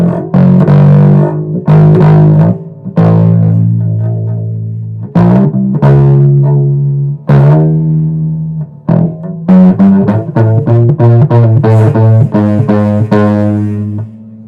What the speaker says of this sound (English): I know that's probably a lot of distortion there.